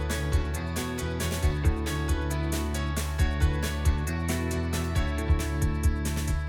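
Music and sound effects from the PlayStation game Hohokum: a sustained synth chord bed with bright plucky tones and soft rhythmic bass thumps recurring every second or so, steady and moderately loud, with no talking.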